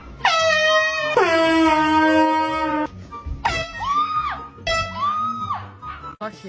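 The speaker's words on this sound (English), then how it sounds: "Scaring my wife with an air horn all weekend." An air horn blasts loudly as a prank on a wife, starting with one long sustained honk followed by two shorter bursts, with startled shouting and talk around them.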